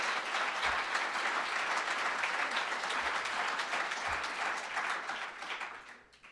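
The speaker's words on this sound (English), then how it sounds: "Feels like that needs another round of applause." An audience at a Dr. Martin Luther King Jr. celebration gives another round of applause, dense and sustained clapping filling the room for the whole stretch before tapering off at the very end.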